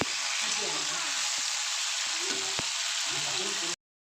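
Broad beans fry in oil with a little salt, a bright, continuous close sizzle with a few soft clinks and stirring knocks before it cuts off abruptly.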